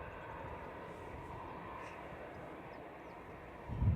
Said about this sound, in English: just timed it right for the A380 takeoff